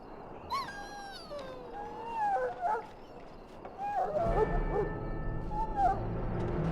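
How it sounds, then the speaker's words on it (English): A dog whimpers and whines in a pen in the game Dragon Age: Origins, high wavering cries that rise and fall, joined partway by a low rumbling background swell. "Go in and see if you can calm or subdue the dog."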